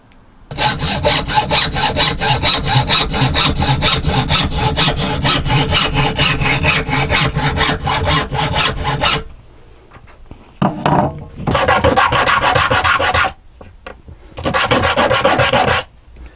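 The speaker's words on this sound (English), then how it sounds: "I'm going to cut 4 pieces from the broom handle and to use as feet" Steady back-and-forth strokes of a hand saw cutting through a wooden broom handle, close and loud, followed by a pause and two shorter bursts of sawing.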